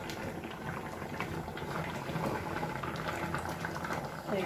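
A pot of drumstick (moringa) and shrimp curry bubbles at a steady simmer, soft continuous burbling heard close and fairly quiet.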